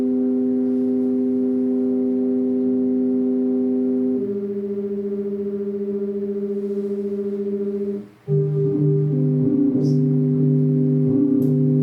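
A sequencer plays steady sustained electronic tones tuned microtonally, so the close pitches beat against each other. The pitches hold and shift at around four and eight seconds, with a brief dropout and faint clicks above.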